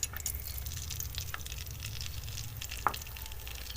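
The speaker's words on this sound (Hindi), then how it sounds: "अब बेसन को हमने इस घी में अच्छे से भून लेना है।" Gram flour roasting in half a cup of ghee in a kadai gives a steady soft sizzle with faint scraping, plus one brief sharp tap near the end.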